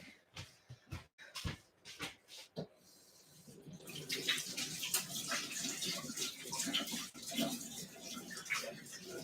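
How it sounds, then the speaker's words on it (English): After a few scattered clicks and knocks, a kitchen tap runs and hands are washed under it, a steady splashing rush close by. "I need to wash my hands real quick."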